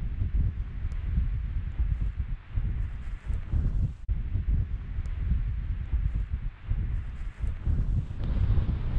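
Strong wind buffets the microphone on a mountain ridge near An Stuc in the Lawers range, a steady low roar with gusty surges and brief lulls, sustained throughout with no voices.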